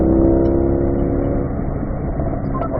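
Race car engine pulling hard down a track straightaway in fourth gear, a loud steady mid-pitched drone held throughout with no voices.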